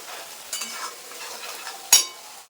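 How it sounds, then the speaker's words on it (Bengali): Spice paste with Kashmiri chilli powder stir-fried in oil in a pan for raw banana kofta curry, a soft steady sizzle with spatula scrapes and one sharp clatter near the end, no voices. "এবার সুন্দরভাবে কিন্তু মশলাটা আমি কষিয়ে নেবো"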